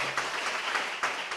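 A church congregation claps together in steady, dense applause, a continuous wash of hand claps that holds evenly throughout at moderate loudness.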